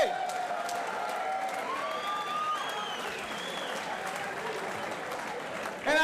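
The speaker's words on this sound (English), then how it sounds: "Ladies and gentlemen, give the boys a round of applause." Audience applause at a SuperFight boxing event, a steady wash of clapping from a crowd with some cheering, filling the hall continuously for several seconds before briefly dipping at the end.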